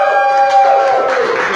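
Comedy-show audience cheering in a vote on the best fast food item, a loud, short burst of crowd shouting and whooping filling the room.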